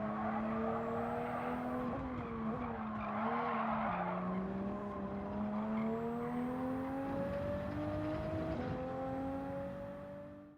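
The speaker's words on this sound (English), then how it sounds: "as I try pushing the car harder through this sector, it can't quite handle the load transfer and it starts to slide out a bit" In Gran Turismo 7, a race car's tires squeal steadily as it slides out under load through a corner, the wavering screech riding over a droning engine pitch that climbs and dips, with no talk.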